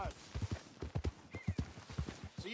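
Horse hooves clip-clop in a steady, moderately paced rhythm in Red Dead Redemption 2, fairly quiet and close, with a brief whinny-like sound and faint game voices in the background.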